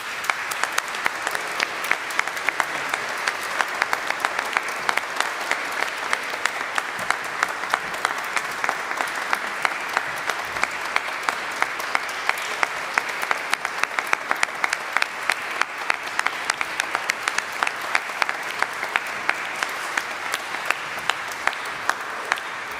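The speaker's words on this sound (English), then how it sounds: "And a round of applause." A school hall audience claps steadily for a newly named head boy at a boys' school speech day, the dense applause sustained evenly for over twenty seconds with no talk over it.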